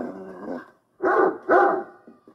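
A dog barks nearby, a sustained whining bark followed by two loud, full barks in quick succession and a faint trailing yip.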